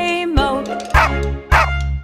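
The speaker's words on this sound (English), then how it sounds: "There was a farmer had a dog and Bingo was his name" A cartoon dog barks three times in quick succession in a children's nursery rhyme song, loud and close, each bark short and punchy against a sung melody.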